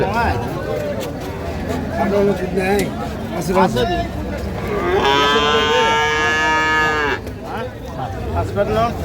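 Dairy cows and calves at an open cattle market in Dinajpur; one cow gives a loud, drawn-out moo amid a busy hubbub of people talking and bargaining nearby.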